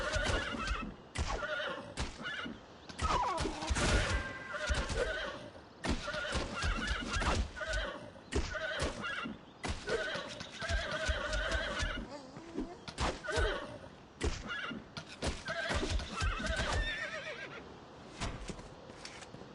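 A horse in The Bard's Tale video game neighs and whinnies repeatedly in loud, close bursts over clopping hooves, filling the scene with agitated calls.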